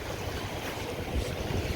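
Waves wash against the shore of Tampa Bay at St. Pete, Florida: a steady broadband rush with low rumbling and wind buffeting the microphone, with no talking.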